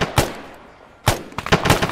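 Gunfire in the video game Arma 3, set in a zombie attack on New York City: two sharp bursts of shots about a second apart, loud and close, with no talk over them.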